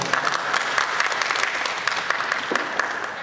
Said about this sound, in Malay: Bagi tepukan pada dua orang.